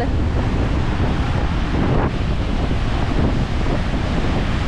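Steady roar of sea waves and surf close by on a typhoon-damaged Philippine coast, mixed with heavy wind buffeting the microphone, continuous with no pauses.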